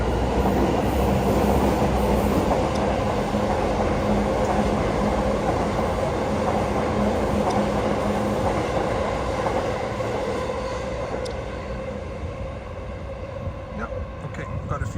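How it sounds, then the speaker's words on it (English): A train on Tokyo's Yamanote Line rumbles past in a steady, broad roar that lasts throughout, easing off slightly toward the end, with street ambience mixed in. "it sounds like it's a train coming as well."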